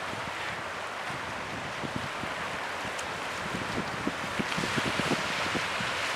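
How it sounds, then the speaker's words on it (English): Steady wind of around 20 knots blusters over the microphone along the ocean shore at Bar Harbor on Mount Desert Island, Maine, with a broad hiss of breaking surf and small gusty thumps building toward the end. "It's fairly windy today, up around 20 knots"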